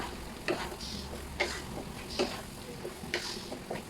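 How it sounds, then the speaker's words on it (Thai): Holy basil leaves being stir-fried with catfish and papaya in a hot pan: a steady low sizzle broken by about five regular scraping strokes of a spatula, fairly close and moderately quiet, with no talking. "แล้วก็ใส่ใบ กะเพราลงไปผัดเลยค่ะ ผัดไม่ต้องนานนะคะ"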